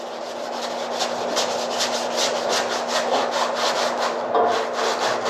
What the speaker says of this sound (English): you should use the shiny side of the aluminum foil, which is what I'm doing.